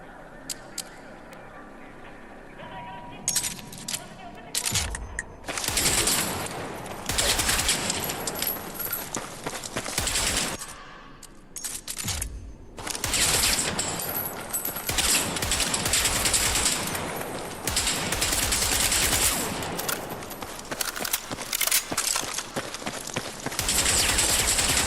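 Gunfire from a carbine in the video game Battlefield 6, sustained rapid automatic bursts broken by short pauses, loud and close, with a voice talking at times underneath.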